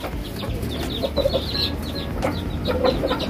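Chickens and chicks cluck and peep at a rooftop poultry expo, with scattered close clucks and chirps over a continuous busy background hum.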